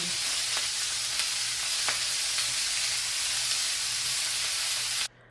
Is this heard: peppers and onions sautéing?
yes